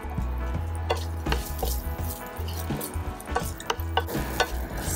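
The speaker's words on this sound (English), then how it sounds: "So the rye, the mustard seeds are fluttering." Mustard seeds and rye crackle and pop in hot oil in a pan, with scattered sharp pops and light scraping over a quiet, steady sizzle.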